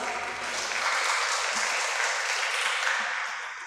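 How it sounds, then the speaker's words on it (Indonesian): Congregation applauding inside a church during an Indonesian service sending off a vicar, a broad wash of clapping that swells and holds steadily before easing off. "Tepuk tangan boleh."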